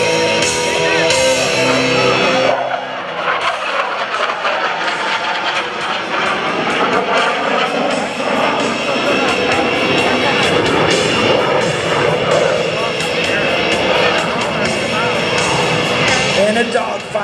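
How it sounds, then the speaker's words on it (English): F-16CJ Fighting Falcon fighter jet rolling through aileron rolls at an airshow, a loud sustained jet roar filling the whole stretch, with crowd noise and shouting mixed in. "snap the F-16 through a series of aileron rolls, demonstrating its exceptional roll maneuverability"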